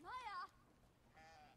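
A sheep in the video game Brothers: A Tale of Two Sons bleats twice, first a clear wavering call and then a fainter second bleat about a second later, set against quiet background ambience.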